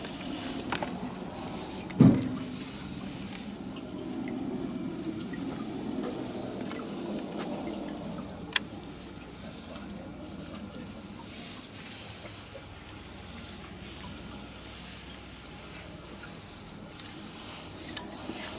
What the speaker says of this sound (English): Try and catch a bit of watering from this angle.